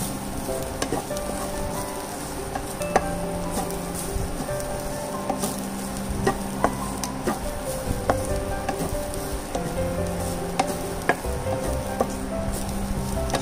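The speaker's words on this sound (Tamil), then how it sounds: "நல்லா வதக்கிட்டு பச்சை வாசனை போற வரைக்கும் நம்ம வதக்கிக்கணும்." Prawn vada mixture sautéing in a pan makes a steady sizzle with frequent sharp ticks and spatula scrapes, close and even throughout, with no talking.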